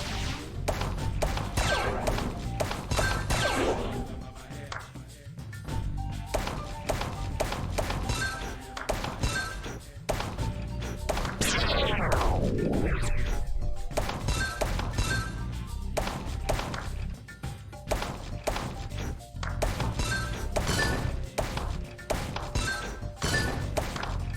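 Colored balls fire rapidly in Zuma Deluxe on PC, a busy stream of repeated thunks and clacks over steady game music, with a sweeping tonal effect partway through.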